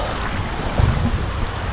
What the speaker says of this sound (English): these waves are intense, though.